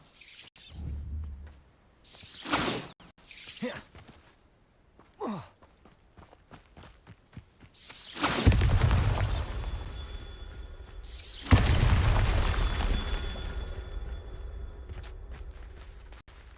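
Spell blasts from the Bombarda explosion in the Hogwarts Legacy game go off as two loud, rumbling bursts with debris-like crackle, after quieter whooshing swishes and scattered clatter.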